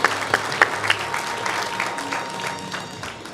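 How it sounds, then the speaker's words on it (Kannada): Audience applause at a journalists' association inauguration event, a steady burst of clapping from a crowd with a few sharp near claps at the start, fading slightly over three seconds. "ಮತ್ತೆ ಚಪ್ಪಾಳೆ ಕಡಿಮೆ ಆದರೂ ಜೋರಾದ ಚಪ್ಪಾಳೆ ಬಂದಬೇಕು"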